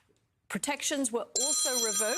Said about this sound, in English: that is my phone going off